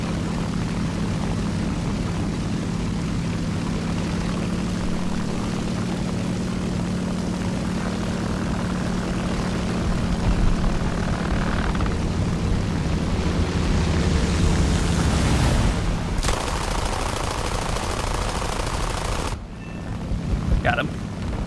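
Steady droning propeller engine of an I-16 fighter plane in the War Thunder combat game, loud and continuous with a rising surge near the end before it cuts off abruptly.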